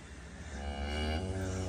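A cow moos once, close and loud, in a low drawn-out call on a farm just after a calf is born.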